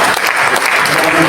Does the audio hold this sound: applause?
yes